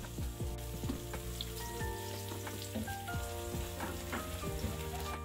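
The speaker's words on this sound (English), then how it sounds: "Add a little bit of oil and let it get hot. Add in your sliced onions." Sliced onions hit hot oil in a regular pot for jollof rice, producing a dense, even sizzle with crackling pops over a steady background hum.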